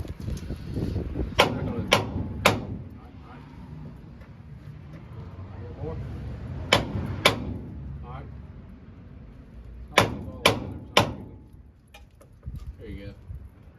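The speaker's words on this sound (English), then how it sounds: "smack that fucking knuckle down over the hammer a little bit" A hammer smacks a steering knuckle on a 2004 Avalanche in sharp metallic strikes, in three quick clusters of two or three blows, with people talking between them.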